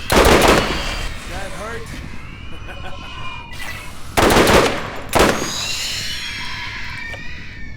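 Video-game burst-fire weapon, the Invader, firing in sharp loud bursts, two main volleys a few seconds apart with ringing tails, while a voice speaks briefly between shots.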